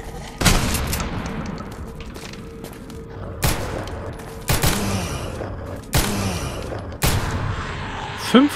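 Gunfire in the video game Total Chaos (Director's Cut, run in GZDoom), five loud booming shots spaced about a second apart, each with a reverberant tail over a low ambient drone, with a voice talking between them.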